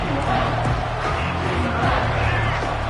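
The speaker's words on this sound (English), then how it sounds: "And the crowd coming to life here" Stadium crowd at an Alabama vs Oklahoma college football game roars steadily throughout, a dense continuous wash of cheering voices with no pauses.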